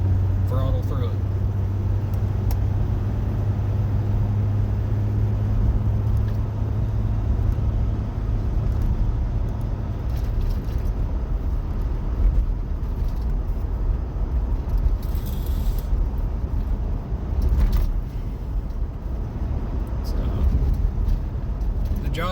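Cabin drone of a Jeep Gladiator EcoDiesel towing a trailer, easing off through a sharp curve and then back on the throttle, with road rumble steady throughout and someone talking over it.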